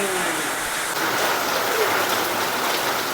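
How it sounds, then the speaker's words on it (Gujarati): Heavy rain driven by strong wind pounds a village in Bardiya, Gujarat, a dense, steady hiss of downpour that fills the whole stretch without a break. "પવન ને વરસાદ ને એકદમ જોરદાર અત્યારે 11 વાગ્યા ચાલુ થઈ ગયો"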